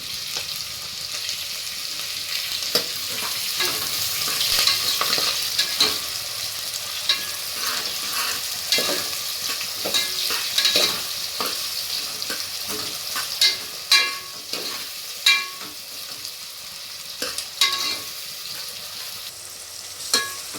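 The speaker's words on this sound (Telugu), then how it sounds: "ఆనియన్స్ వేసిన తర్వాత అలా కలుపుతూ ఉండాలండి, ఆనియన్స్ బ్రౌన్ కలర్ వచ్చేదాకా." Onions frying in a pan for mutton kheema curry keep up a steady sizzle, broken by repeated sharp scraping strokes of a spatula as they are stirred, close and loud with no talk.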